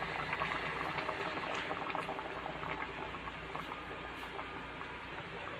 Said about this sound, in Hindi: बॉयल आ रहा है, देखें बॉयल आ चुका है।